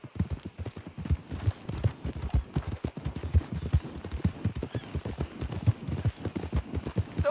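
Horse hooves pound in a fast, rhythmic gallop in a western video game, a loud, steady stream of clip-clop thuds close up, with a faint voice briefly underneath.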